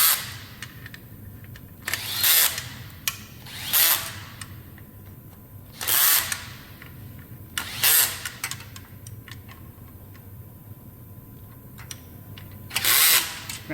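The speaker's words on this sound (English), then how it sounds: "I'm going to use my gun to tighten them up" A power screw gun tightens wheel bolts on a 2007 Hyundai Accent in a series of short, loud, buzzing bursts separated by pauses, over a low background rumble.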